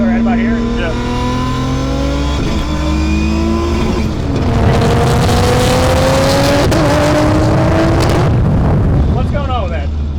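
An 1100hp R32 Skyline GTR pulls hard in third gear, engine note climbing steadily in pitch with a loud, close roar and a couple of brief shifts in tone, while people talk over it inside the car.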